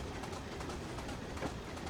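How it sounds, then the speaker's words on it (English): Low, slow-revving diesel engine of a freight train in the Train Simulator Classic game on the Buchan Line, a steady rumbling drone with rail noise and no talk. "That's a really slow revving diesel."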